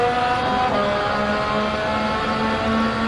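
A Ferrari race car in Gran Turismo 7 holds a loud, sustained engine drone with steady harmonic whine, slight pitch shifts suggesting gear changes, and faint tire noise underneath.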